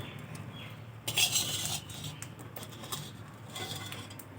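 Steamed rice pitha is lifted out of a pan, with metal utensils clinking and scraping against the pan in a brief burst, then softer clatter over a faint background hiss.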